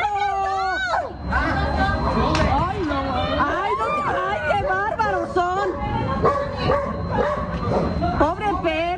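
A dog is being beaten and yelps, whimpers and barks, sharp and close, in repeated pained bursts throughout. Agitated voices shout and talk over and around it.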